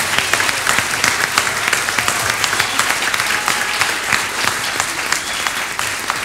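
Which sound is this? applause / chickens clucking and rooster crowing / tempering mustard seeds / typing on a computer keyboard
applause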